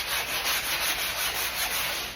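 Steady rubbing scrape of a sanding sponge worked back and forth over a drywall wall, a continuous close hiss pulsing with each stroke and no voices.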